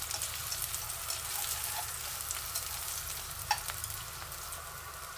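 Onion sautéing in a pan for sweetened braised pork belly, a steady close sizzle and crackle of frying with a few soft stirring scrapes, no voices.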